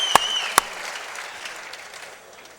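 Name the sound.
crowd applause and ovation at a boxing fight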